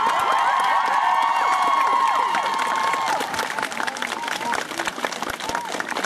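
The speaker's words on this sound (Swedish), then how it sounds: "En rungande applåd har redan getts till vår vinnare." A crowd at a cosplay competition prize ceremony at a convention gives the winner loud, sustained applause with cheering and shouts, which thins into scattered claps toward the end.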